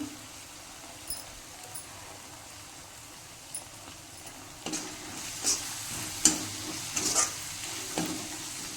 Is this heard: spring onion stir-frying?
yes